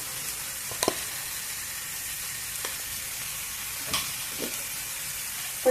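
Onions fry in a pan for palak methi malai paneer, giving an even sizzling hiss throughout. A few sharp clinks and scrapes of stirring punctuate it, and no one speaks.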